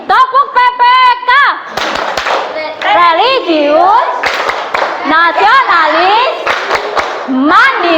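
An Indonesian classroom does a rhythmic clap chant, with sharp, loud, patterned hand claps between loud spoken and sung chant lines from the teacher and the class.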